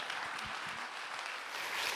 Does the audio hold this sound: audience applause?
yes